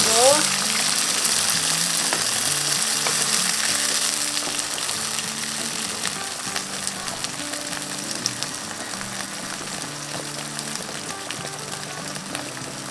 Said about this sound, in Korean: 이렇게 좀 끓어서 기름이 위로 뜨지 않을 때까지 끓인 다음에